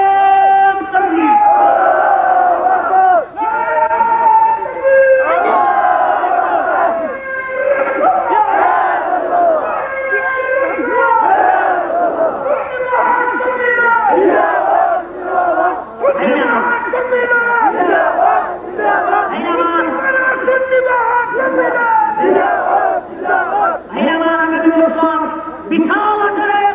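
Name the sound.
crowd chanting the takbir in response to the call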